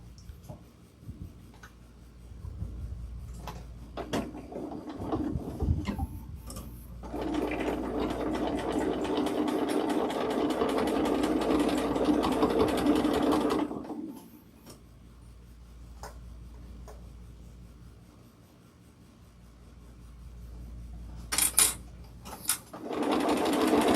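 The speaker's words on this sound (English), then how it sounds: "we're going to start our stitch here and come across the bottom." Sewing machine stitching a seam across the bottom of a fabric tote bag, running in a steady mechanical hum for several seconds between shorter bursts and pauses, close and clear with no talking.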